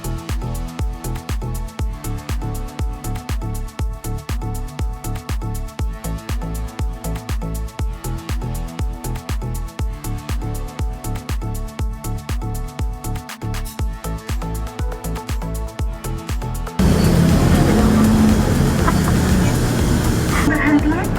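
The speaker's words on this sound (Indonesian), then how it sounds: "Jadi geng, akhirnya bus kita jalan." Transjakarta city bus under way in Jakarta, a steady engine drone with rhythmic rattling and clunks throughout, then a louder broadband rush of road and cabin noise near the end; voices murmur faintly inside the crowded bus.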